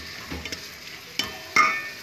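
Onions frying in a pot for beef nihari, a faint steady sizzle with a few short clinks and scrapes of a spoon stirring, the last scrape the loudest.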